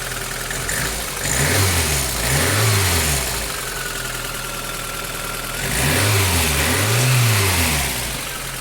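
A VAZ 21083 with a 1.5 carbureted engine, just after cylinder head repair, holding a steady idle close by, then two pairs of quick revs that rise and fall before settling back to idle.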